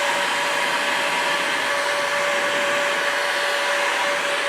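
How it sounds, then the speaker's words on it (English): Heat gun blowing hot air to force-dry stain on a persimmon wood golf club head, a steady continuous whooshing roar with a faint whine, close and constant throughout with no talk. "use your heat gun and you can force dry it"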